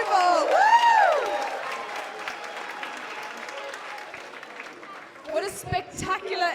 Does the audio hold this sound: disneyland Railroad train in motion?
no